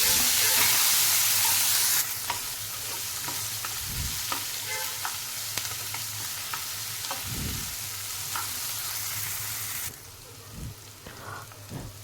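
Chopped bell pepper and tomato sauté in a pan for vermicelli upma, a steady sizzle broken by several scraping stirs of a spoon, with the frying noise dropping quieter near the end.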